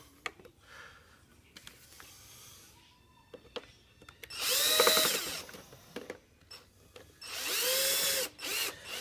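A power drill drives screws into a hoverboard during a lithium battery replacement, giving two loud, close whirring bursts, each a second or so long, separated by quieter handling clicks and rustles.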